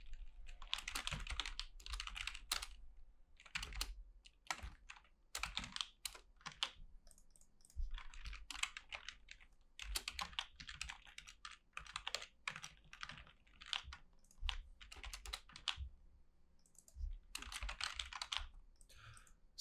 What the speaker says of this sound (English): So if I press the T key